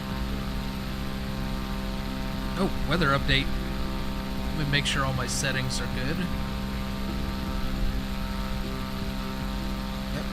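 Steady drone of a propeller airplane in flight in Microsoft Flight Simulator, a constant engine hum over the Bahamas that runs throughout while someone talks over it.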